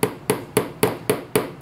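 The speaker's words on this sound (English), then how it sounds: "I'm using a little nail, little hammer. And I'm just going to tap this gently" A small hammer taps a little nail into a wooden axle piece for a mousetrap car's back wheels, seven sharp evenly spaced strikes at a steady rhythm, close and clear with no talk.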